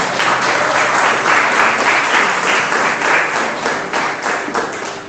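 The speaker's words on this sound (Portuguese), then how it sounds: "Você pode dar um aplauso ao Senhor Jesus?" A church congregation applauding, a loud dense sustained wave of many people clapping that swells and then eases slightly toward the end.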